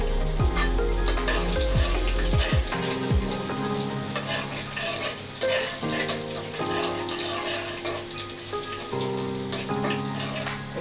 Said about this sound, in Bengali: একটু হালকা ভেজে নিব রসুনটা লাল হয়ে গেলে